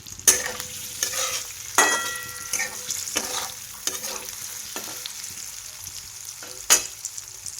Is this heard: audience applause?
no